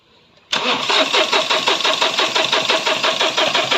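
After a moment of quiet, a Mahindra Bolero Power Plus engine with a fuel control unit fault cranks loudly and close by, its starter churning in a steady rapid rhythm without catching.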